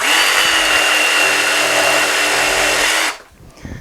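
A DeWalt DCS331 cordless jigsaw cuts fast at oscillation setting 3, a loud, steady, close buzzing whine that runs for about three seconds and then stops abruptly.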